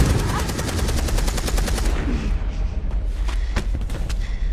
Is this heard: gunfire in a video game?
yes